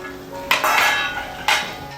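A lid goes onto a cooking pot of ridge gourd vegetable curry with two sharp metallic clanks about a second apart, each followed by a brief ringing rattle, close and alone.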